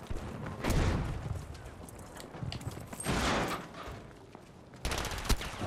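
Gunfire in the Battlefield 5 video game crackles in repeated bursts, some sharp and close, others rattling farther off, with quieter gaps between volleys and no talking.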